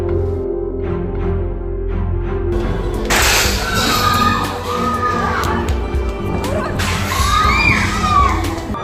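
A riotous crowd shouts in hostile, angry bursts while stones are thrown at buildings and passers-by; a dense wall of voices fills the scene, swelling into louder surges of yelling and cheering midway and again near the end.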